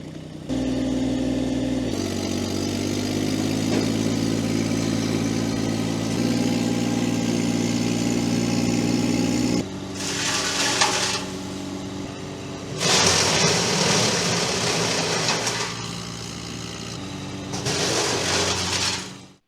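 An Iseki TXGS24 compact tractor with a 23 horsepower, 1123cc three-cylinder diesel drives a Hansa wood chipper, a close, steady engine drone changing pitch, then three loud bursts of harsh grinding as wood is fed through.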